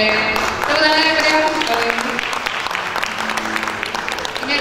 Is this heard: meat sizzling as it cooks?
no